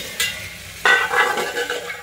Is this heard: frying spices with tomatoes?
yes